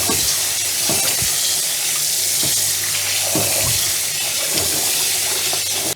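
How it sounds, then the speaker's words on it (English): Rice is rinsed in cold water under a running tap, a steady close gush of water with repeated splashes and sloshes as the grains are stirred and swirled. "Rinse the rice in cold water a couple of times, and after that drain it in a colander."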